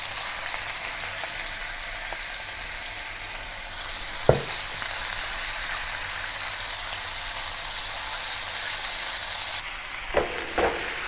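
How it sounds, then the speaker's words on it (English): Beef fries over medium heat in a pan for a Chinese-style beef and mushroom stir-fry, giving a dense, continuous sizzle at close range. A utensil knocks once, then scrapes a few times near the end. No one speaks. "Fry the beef on both sides over medium heat until golden brown."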